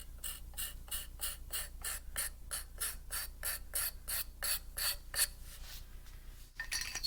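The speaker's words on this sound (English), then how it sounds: "And you see how quickly the scraper takes away the material?" Hand scraper shaving wood from a cabriole leg, a steady run of about a dozen quick rasping strokes in an even rhythm, close and fairly quiet, easing off near the end with no talking.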